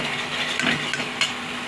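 Short scraping and light clinks of a spoon working gurjali fish curry in oil in a pan, a few soft taps over a gentle background sizzle.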